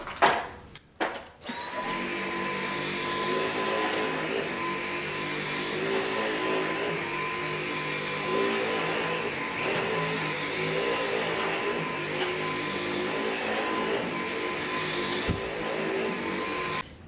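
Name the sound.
vacuum cleaner on carpet with scented vacuum powder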